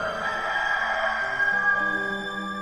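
A rooster crows in a drawn-out cock-a-doodle-doo, a single clear call rising and holding at close range with no talk over it.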